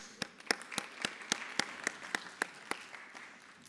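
Audience at a middle school science fair ceremony claps in a scattered, moderately sized round of applause, individual claps standing out crisply before it tapers off; no voices heard.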